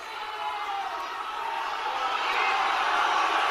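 A large live audience reacts with a sustained, swelling crowd noise, a broad low roar of many voices that grows louder toward the end.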